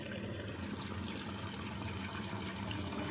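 Water streams steadily into a washing machine as it fills, a constant soft rushing wash with a low hum underneath and no pauses.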